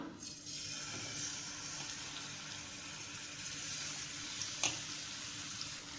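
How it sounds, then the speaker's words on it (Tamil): Fish marinated in turmeric and salt frying in oil in a kadai, giving a steady, moderately faint hiss and crackle that runs throughout with only a small pop near the end. "மஞ்சள் உப்பு போட்டு கலந்து வச்சிருக்கிற மீனை எண்ணெயில் போட்டுக்கலாம்."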